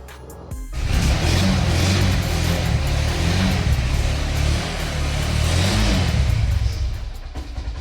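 A second-hand motorcycle at a bike showroom starts with a short catch, then revs steadily for several seconds, loud and close. The engine note swells and holds throughout.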